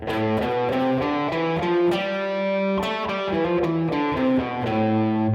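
Overdriven electric guitar picks the seven-note Aeolian scale ascending and descending, evenly paced notes ringing loud and close, no talking.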